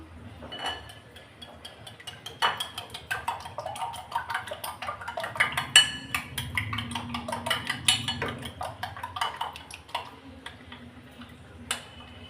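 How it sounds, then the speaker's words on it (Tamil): Beaten eggs with pepper and turmeric for an egg curry side dish are mixed in a bowl, giving a steady run of close, rapid utensil taps and clinks against the bowl with no pauses. "இப்போ இதை நல்லா கலந்து விட்டுறலாம்"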